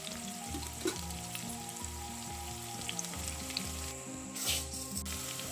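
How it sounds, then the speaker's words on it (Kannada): Onions fry in a pan for egg biryani, giving a steady close sizzle that runs throughout under a repeating tonal background melody. "ಸ್ವಲ್ಪ ಫ್ರೈ ಮಾಡ್ಕೊಳ್ವಾ ಈರುಳ್ಳಿ ಸ್ವಲ್ಪ ಬ್ರೌನ್ ಸರ್ ಆಗಲಿ"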